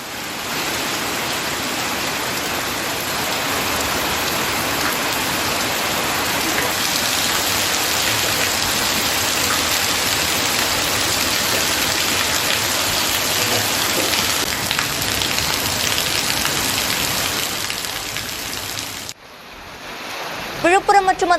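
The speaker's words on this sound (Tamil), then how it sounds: "பகுதிகளில் தொடர்ச்சியாக மழை 1 மணி நேரத்துக்கு மேலாக பெய்து வருகிறது." Heavy rain pouring down in Tamil Nadu, a dense, loud, continuous hiss of rainfall that cuts off abruptly near the end, followed by a brief burst of other sound.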